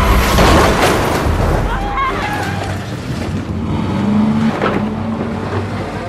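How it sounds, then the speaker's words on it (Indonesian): Movie car chase where one car rams another from the side to trap it: a heavy crash impact and engine roar open the scene, followed by grinding, revving engines throughout. "Tiba-tiba Junho menabrak dari samping dan membuat mobil Yungwo tidak bisa bergerak."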